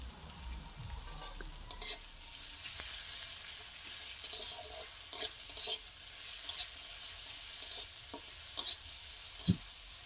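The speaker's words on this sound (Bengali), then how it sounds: "কেটে রাখা পেঁয়াজটাও দিয়ে দেব।" Chopped onion frying in a pan, a low steady sizzle broken by intermittent scraping and clinking strokes of the spoon as it is stirred, close and moderately quiet.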